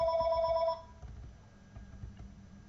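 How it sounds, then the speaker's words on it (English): A telephone bell rings in the background with a bright repeated trill for under a second, then stops, leaving a quiet room with low rustling. "phone ringing in the background"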